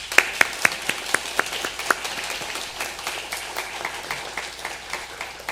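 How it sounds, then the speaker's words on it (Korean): A church congregation claps during a Sunday worship service to welcome a returning family, the applause starting with a few sharp, distinct claps and then settling into a steady, moderately close patter that continues throughout without any talk. "환영의 박수 부탁드립니다."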